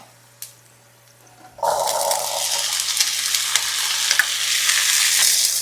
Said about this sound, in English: Just gonna saute this for a few minutes just to let the flavors come together.